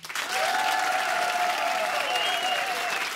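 Sustained audience applause at a comedy stage show, a dense, loud wash of clapping from a large crowd running steadily throughout, with a whistle-like tone gliding over it.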